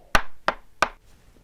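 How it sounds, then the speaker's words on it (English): Three sharp, evenly spaced knocks on a door ring out close and alone, followed by quiet. "suddenly there was a knock on the door."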